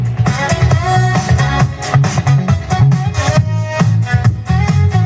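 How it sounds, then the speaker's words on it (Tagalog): Soft bass-heavy music plays loud and steady through a 500-watt subscoop speaker box driven by an ACE CA5 amplifier, its thumping low end pulsing under a full mix of mid and high tones, with no talking. "maganda yung tunog ng subscoop kapag mga soft bass lang yung mga ganitong type of music"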